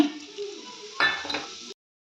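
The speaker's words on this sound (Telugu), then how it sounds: "ఇదే ఆయిల్‌లో మనం ఒక స్పూన్ ఆవాలు తాలింపుకి" Mustard seeds and cumin hit hot oil for a tempering for amla pickle, giving a brief, close hiss with a sharper burst of crackling and a faint clink partway through before it cuts off.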